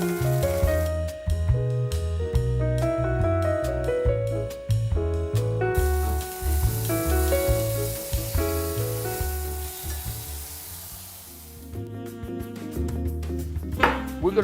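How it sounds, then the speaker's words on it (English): Duck breast sizzles skin-down in a hot pan, rendering its fat with a steady crackling hiss that runs throughout, close and fairly loud, with music over it and no talk. "now we're going to let the skin render the fat and get a beautiful color."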